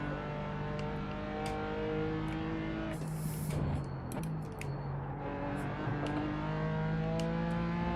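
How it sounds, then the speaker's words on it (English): A Porsche engine races in a driving video game, a steady loud revving drone with shifting pitch and a brief gear-change burst midway, with no voices. "and the Porsche is off"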